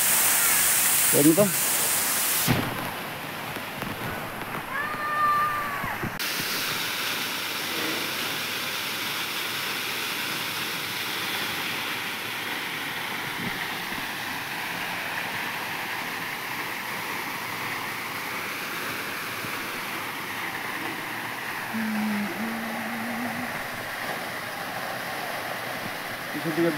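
Waterfall in Chepti Park, Ilam, Nepal, a steady broadband rush of falling water running throughout, near and fairly loud, with people talking over it at times.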